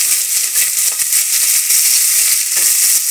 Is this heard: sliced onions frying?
yes